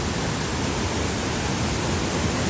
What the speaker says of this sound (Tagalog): Ito yung pinakamagandang waterfall na napuntahan ko dito sa ano